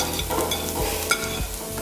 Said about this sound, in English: I'm just gonna take this out and I'm just gonna put my chickpeas in